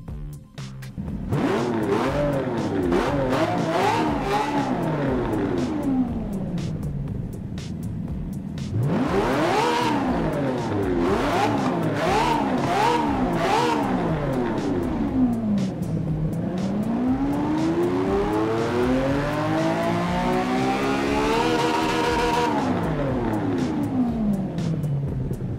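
A Lamborghini Veneno engine on a hot lap in the racing game Forza Motorsport 7 roars loudly and continuously, its revs climbing and dropping through repeated gear shifts, with long sweeping acceleration runs.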